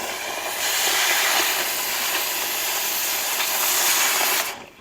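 A gas axe cutting torch slices through steel on a custom cab-over truck build, giving a loud, steady broadband roaring hiss that holds for several seconds before cutting off abruptly.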